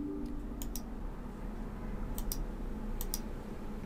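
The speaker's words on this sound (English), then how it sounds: "We're going to click the Run Anyways button." A computer mouse clicks on a Windows Run Anyway button: a few faint, crisp double clicks spaced across a few seconds over a steady low hum.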